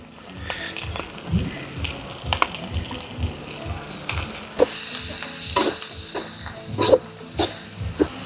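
Spices sizzle in a hot pan for Telangana-style mutton liver fry, a steady frying hiss broken by repeated scraping stirs, growing louder as more spice goes in.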